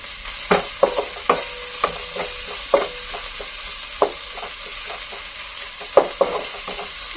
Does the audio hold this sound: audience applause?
no